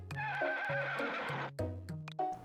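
Horse in the video game Harvest Moon: Sunshine Islands gives a series of clear, loud synthesized neighs and whinnies, several short calls in a row over about two and a half seconds.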